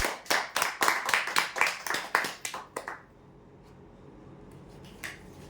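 A small audience claps for a prize-draw winner, a quick run of crisp, close hand claps for about three seconds that then stops abruptly, leaving a quiet room with one faint later tap.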